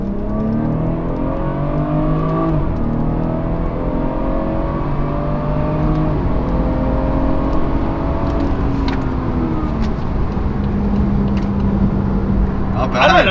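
BMW car pulling hard under acceleration, a loud, continuous engine drone rising in pitch through the gears with brief shift dips, with voices talking over it inside the cabin.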